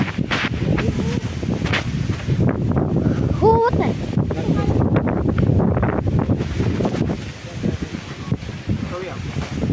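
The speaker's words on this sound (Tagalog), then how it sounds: "Ang hangin niya eh." Steady, heavy wind buffets the microphone in a continuous low rumble, with voices speaking under the roar.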